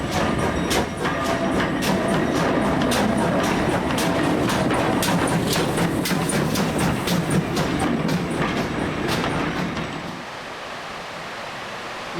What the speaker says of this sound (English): Collett 2251 class No. 3205 eases its train past some of the line's passenger stock